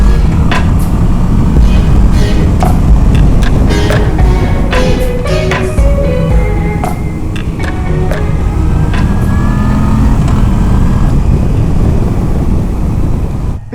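A 2019 Moto Guzzi V9 Bobber motorcycle rides along a country road in Kent and Surrey, giving a steady close engine drone mixed with rushing wind noise throughout.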